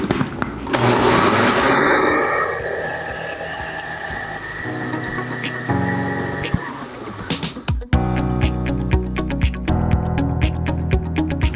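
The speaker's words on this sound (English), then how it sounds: "then you just blend it up" A blender whirs up a healthy coffee drink, a loud motor roar that shifts pitch as it runs, then cuts into sputtering, rattling bursts near the end.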